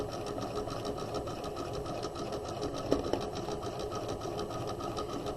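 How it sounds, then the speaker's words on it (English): A sewing machine runs steadily, stitching the bottom seam of a tote bag lining, a continuous close mechanical whir with rapid needle rhythm and a couple of small clicks midway. "Then we're going to sew along the bottom."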